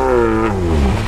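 A naturally aspirated Lada Niva pulls hard off-road, its engine giving a loud, close, strained drone whose pitch sinks steadily as it labours, with no voices.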